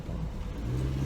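A car engine rumbles close by, a loud, steady low drone with a rising tonal whir toward the end as the vehicle moves, with no speech.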